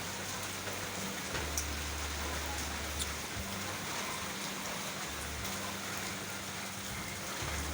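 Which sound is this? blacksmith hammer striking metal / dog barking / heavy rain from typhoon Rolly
heavy rain from typhoon Rolly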